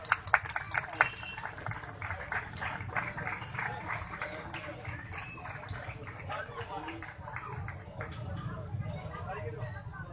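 Audience clapping and applause at a Christmas ceremony in Sharaqpur, welcoming a guest to the stage; steady, moderately loud clapping runs through under a speaker's voice and crowd noise.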